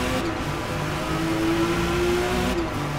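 Race car in Forza Motorsport on Xbox Series S, engine droning steadily and loud throughout with a sustained tonal whine, no voices.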